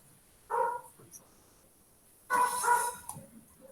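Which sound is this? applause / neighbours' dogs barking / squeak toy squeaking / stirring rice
neighbours' dogs barking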